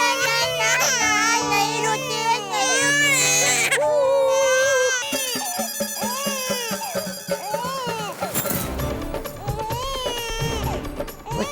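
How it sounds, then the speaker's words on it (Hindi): A baby cries loudly and close by in a Hindi TV comedy household, with repeated wailing bursts that rise and fall, breaking into sobbing whimpers toward the end. "बच्चे के रोने की आवाज।"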